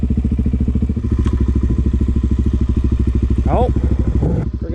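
A Suzuki DRZ400S dirt bike engine idles on a swapped-in carburetor with unknown jetting, a loud, close, steady rapid thumping with slight rattly clatter throughout; a brief voice rises over it near the end.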